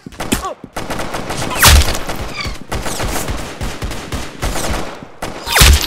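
Loud, dense gunfire in the Roblox shooter game Arsenal, rapid repeated shots running almost continuously with sharper louder blasts mixed in, close and dominant.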